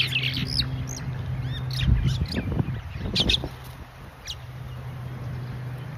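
Several birds chirp and tweet in short bursts over a low steady hum, fairly close, with no speech.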